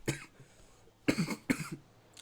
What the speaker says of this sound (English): the cough has distracted me